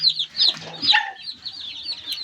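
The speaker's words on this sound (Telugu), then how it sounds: "ఈ లైన్లో పెట్టలు 3 ఉన్నాయండి" Hens cluck and chatter nearby in short, overlapping bursts, with no voices present.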